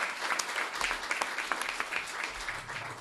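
Applause from a crowd at a political campaign event in Chieti, a steady patter of many hands clapping at moderate distance, with no voices on top.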